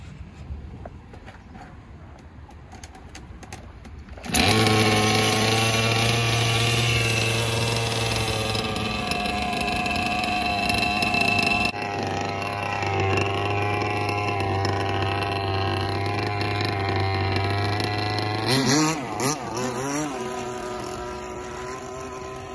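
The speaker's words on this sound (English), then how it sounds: "48 inch, 26 cc Bro Boat." A 26 cc gasoline engine on a 48-inch RC boat starts up and runs loudly with a steady buzzing drone, its pitch rising and wavering as it revs near the end.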